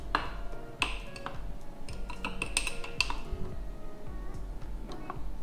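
A spoon stirs a glass of chia seed drink, clinking against the glass in a run of light, irregular ticks and taps over a few seconds, close by, with no talking.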